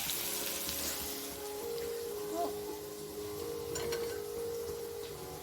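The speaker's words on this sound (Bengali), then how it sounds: "এবার এর মধ্যে একে একে গুঁড়ো মশলাগুলো দিয়ে দেবো।" Powdered spices, including turmeric and chili, dropped into a sizzling pan of hot oil while cooking loti, giving a steady, moderate frying crackle with a faint hum throughout.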